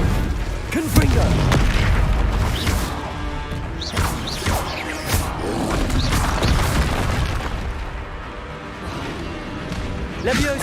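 Confringo fire spell blasts in the Hogwarts Legacy video game, a dense run of booming, crashing impacts with bursts and clatter, layered over continuous game action and voices.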